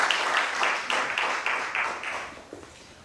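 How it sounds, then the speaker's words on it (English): Scattered clapping from a small audience at a 2011 Speaker's Corner policy discussion event, with distinct claps in an uneven rhythm that thin out toward the end. "Round of applause for Graham for stepping up first."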